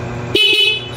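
A single short horn beep from a Kawasaki Barako 2 motorcycle, sharp and close, breaking through a low idling engine.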